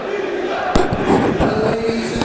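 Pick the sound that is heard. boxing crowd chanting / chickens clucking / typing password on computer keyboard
boxing crowd chanting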